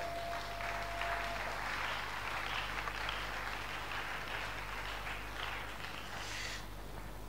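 A church congregation applauds together in a steady, dense wash of clapping that runs loud and continuous, with a brief tone near the start and a slight swell toward the end.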